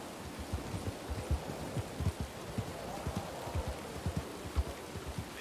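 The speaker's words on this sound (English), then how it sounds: "Yeah, it's raining nice now." Steady rain falls in a western roleplay game, a soft continuous hiss with low patters and small thumps of drops scattered throughout, even and moderately quiet with no talk.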